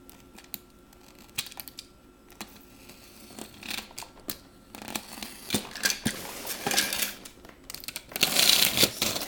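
A blade slices open a package box, producing a run of scratchy, crackling cuts and tape-tearing rasps that build from sparse ticks into denser, louder scraping toward the end.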